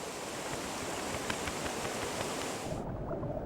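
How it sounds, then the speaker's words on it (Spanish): A strong river current in the Tatra mountains roars steadily in a dense, broadband wash, continuous and fairly loud before cutting off near the end. "La corriente del río es muy fuerte."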